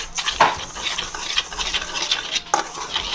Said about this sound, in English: And now we're gonna give these a good mix.